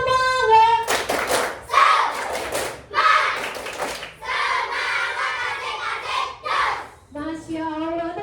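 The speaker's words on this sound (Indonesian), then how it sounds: "Kita sama-sama tepuk semangat." A class of children claps together in a rhythmic chant, sharp bursts of hand claps in a steady pattern, with a woman teacher's voice speaking before and after.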